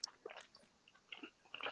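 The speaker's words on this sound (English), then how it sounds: "We can hear you chewing" Quiet, close chewing of food with a few soft crunchy bites in short bursts, no talking.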